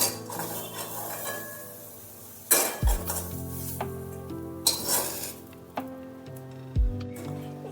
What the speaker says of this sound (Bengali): এবার একটা থালার মধ্যে এগুলো তুলে নিচ্ছি।